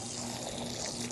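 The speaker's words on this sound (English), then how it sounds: "Just water it at the top and it'll trickle down into each one." Water pours steadily over the soil of potted garden plants and trickles down through them. The flow is close and continuous with a constant hiss.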